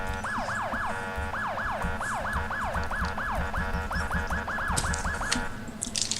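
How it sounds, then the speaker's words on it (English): A primary police siren from a GTA V ELS mod wails in fast, repeating up-and-down sweeps, loud and steady for the whole stretch with no talking. "it'll keep on your primary siren"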